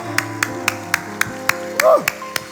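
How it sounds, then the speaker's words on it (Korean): A church congregation claps in a steady, evenly spaced rhythm, about nine sharp claps over sustained music, with one brief vocal sound partway through. "박수로 하나님 앞에 영광을 돌려드립니다"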